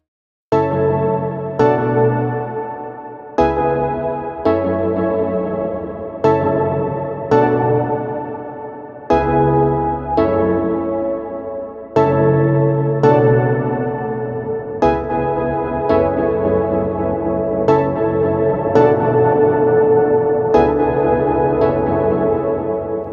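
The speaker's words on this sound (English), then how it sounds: "with every tap of the delay, we're sending another copy of the signal through the hybrid reverb engine, which produces this insanely massive, multiplied reverb texture" Synth notes from a Supernova synthesizer pass through delay taps feeding a hybrid reverb, building into a massive, multiplied reverb wash. Each new chord strikes sharply and leaves a long shimmering tail over about twenty seconds.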